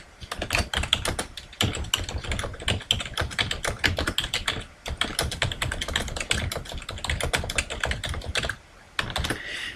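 Rapid, continuous typing on a computer keyboard, close and crisp, with dense bursts of keystrokes, one brief pause near the middle and a short break near the end, no voices.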